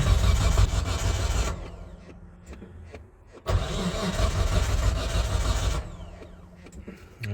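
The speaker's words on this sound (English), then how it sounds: "At least the starter motor works better." An R33 Nissan Skyline's starter motor cranks the engine with its fuel line removed, a loud whirring churn that runs for a few seconds, stops briefly, then cranks again at length before cutting off, no catch or start.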